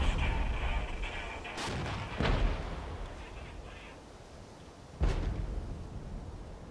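A tank in the Regiments war game fires heavy booming shots, three loud blasts with rolling echoes over constant battle rumble and distant gunfire.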